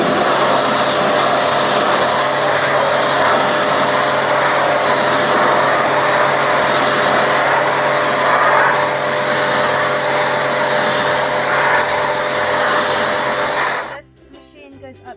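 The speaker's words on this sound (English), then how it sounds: "Pressure washer is amazing on garden furniture as well." Kärcher K5 pressure washer running, a loud continuous motor whine and hissing spray held steadily for about fourteen seconds before cutting off abruptly into near quiet.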